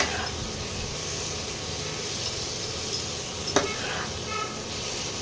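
Spice paste with a spoonful of coriander powder fries in a pan for lamb curry, giving a steady low sizzle with soft stirring scrapes and one sharp clink of the spoon against metal.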